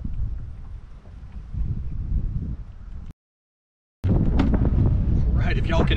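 Wind gusting hard against the microphone on a fishing boat during catfish fishing, a loud rumbling buffet that drops out briefly and then returns stronger.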